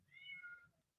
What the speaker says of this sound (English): hear the cat meowing